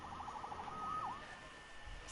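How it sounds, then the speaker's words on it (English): A police siren in the Spider-Man video game gives a brief, faint wailing tone that rises and falls a few times over a low background hum. "Saved by the siren."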